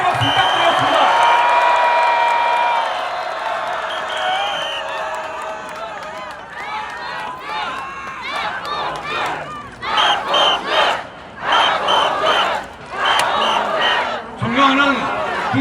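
A large crowd at an outdoor political rally against the government cheers, shouts and claps loudly, a sustained roar swelling into rhythmic chanting bursts, with a voice over a loudspeaker heard at the start.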